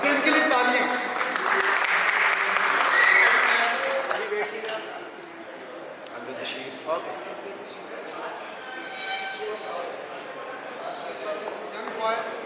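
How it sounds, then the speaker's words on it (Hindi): Audience at an award ceremony applauds loudly and steadily at first, the clapping thinning and fading over several seconds while scattered claps and crowd noise linger. "तो इनके लिए तालियां।"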